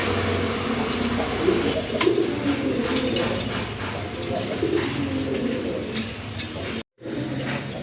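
Paired pigeons in a loft coo with low, repeated throaty calls, close and overlapping, under a voice and steady background noise, with a brief dropout near the end.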